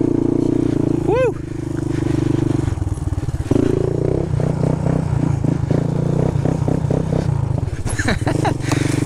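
A 250cc ATV engine burbles along in first gear close by, steady with rhythmic throttle pulses and clattering, while a person calls out over it.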